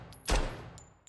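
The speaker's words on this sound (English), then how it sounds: "Let's take the suppressor off so you can hear the guns." A single loud unsuppressed gunshot indoors in the video game Road to Vostok, a sharp crack with a short decaying tail, followed by faint clicking sounds.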